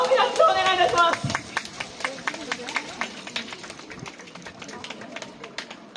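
Audience clapping at the Hino Yosakoi Festival outdoor dance stage, a loud burst of applause that quickly thins into scattered, fading claps, with a voice announcing over the start.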